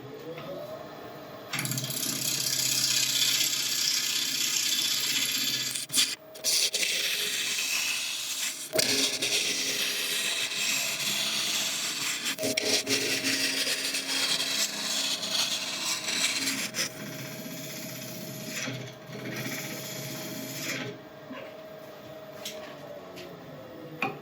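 Wood lathe spinning a blank at about 1000 RPM while a tool turns it, a steady motor hum with a constant pitch under harsh, scraping cutting noise that stops and restarts in bursts, close by.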